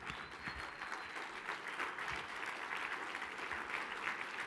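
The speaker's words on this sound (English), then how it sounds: "give Mark Mandel a big round of applause for an outstanding" An audience claps steadily for a conference speaker, a continuous patter of many hands at moderate distance that stays even throughout.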